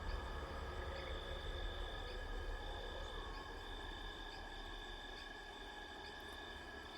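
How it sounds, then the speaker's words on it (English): Quiet outdoor swamp ambience with a steady drone of insects and faint frog calls, continuous and distant. "the ambient sound of the swamp sounds like this"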